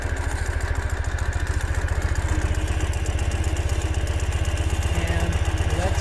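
A 2015 Ural Gear Up motorcycle's engine idles as it rolls along unthrottled, giving a steady, close, loud rhythmic thumping that runs throughout without a break.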